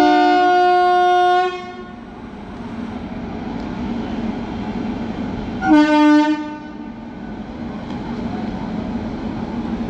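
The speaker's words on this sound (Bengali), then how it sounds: "তো ট্রেনটা এখন ছেড়ে দিল।" A passenger train at Plassey station sounds a long horn blast, then a second short blast, over the continuous low rumble of rolling wheels as it pulls away.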